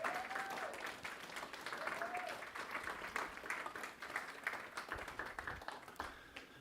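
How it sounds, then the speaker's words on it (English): A congregation claps for its Board of Trustees during a church service, a steady continuous patter of many hands from a medium distance, with a brief murmur of voices mixed in. "let's just give them a round of applause"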